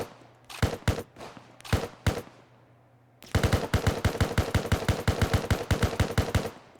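A heavy machine gun in ARMA 3 fires loud, close shots: two short double bursts, a pause, then a long sustained burst of evenly spaced rounds with sharp cracks and deep thumps.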